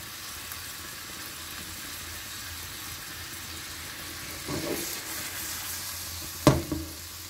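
Roll patti sautéing in a pan over a very low flame, a steady soft sizzle throughout, with a couple of brief louder clatters near the end as the pieces are moved.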